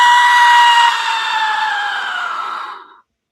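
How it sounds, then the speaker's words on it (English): A South American death whistle is blown in one loud, sustained, shrieking blast, close and alone, holding a harsh wavering tone for about three seconds before it stops abruptly. "This is a death whistle from South America."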